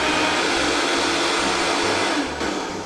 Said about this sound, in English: All right, we're going to blend again.